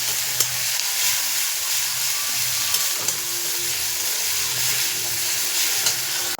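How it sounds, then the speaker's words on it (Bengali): Onion fried until reddish with garlic and a ground cumin, ginger, chili and onion spice paste sizzles steadily in a pan, a continuous close hiss with faint stirring scrapes. "দেখো পেঁয়াজটা লাল লাল হয়ে গেছে, মশলাটাকে দিয়ে দিচ্ছি।"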